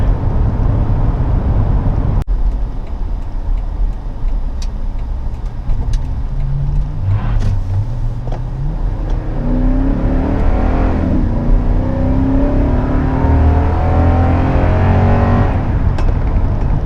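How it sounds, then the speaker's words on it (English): A 2014 Toyota Tundra Limited pickup's engine hums from inside the cab, its pitch climbing steadily through several gear shifts as it accelerates to about 65 mph, with road and wind noise underneath. "That was an acceleration up to about 65."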